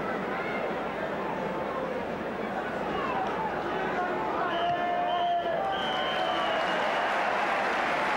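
Football crowd at an Everton match in 1980/81 applauding at half-time, a broad wash of clapping and cheering from a large stadium audience, steady throughout with some whistles rising near the end.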